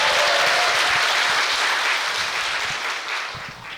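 Sustained applause from a seated audience welcoming a speaker at a ceremony, a broad wash of clapping hands that holds steady before gradually tapering off near the end.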